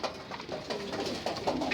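Malwai pigeons, pure and crossbred stock kept at a loft, coo in a steady overlapping murmur of soft low calls, close by and fairly quiet, with no voices over them.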